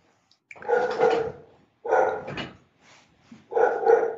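A dog barks indoors in three separated bursts, each a cluster of gruff barks and yips, close and fairly loud with short pauses between them and no talking.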